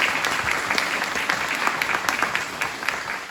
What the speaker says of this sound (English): let's give Mike a big round of applause